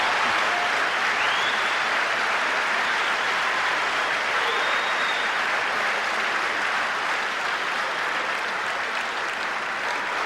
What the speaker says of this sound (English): I can see from your applause, sisters and brothers, that you agree with the report.